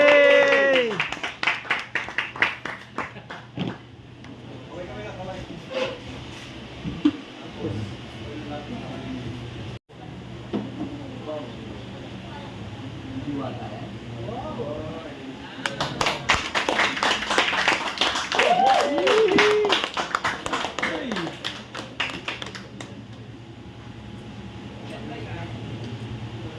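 A group of people clap in two bursts of quick, close hand claps, one at the start and a longer one later, with people chatting and calling out between and over them.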